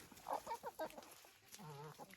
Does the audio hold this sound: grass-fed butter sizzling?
no